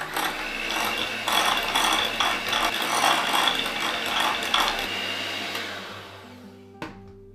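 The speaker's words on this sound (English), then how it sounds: "With a hand mixer, let's blend these up until they're nice and smooth." A hand mixer whirs steadily while blending cream cheese and butter, its motor buzz rattling through the bowl for several seconds before it winds down and stops, close and alone.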